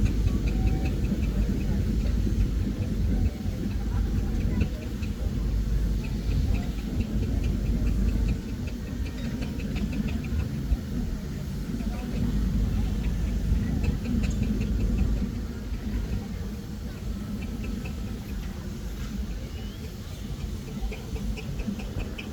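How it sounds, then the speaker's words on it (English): A steam engine runs quietly at a West of England steam rally, a steady low, even chugging mechanical hum throughout with outdoor background noise. "As you can hear, it's like a sewing machine, very, very quiet and actually beautifully turned out."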